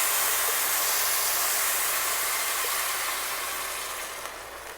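A loud, steady sizzling hiss fills the clip as a blended mixture is poured into frying rice in a hot pan, slowly easing off toward the end.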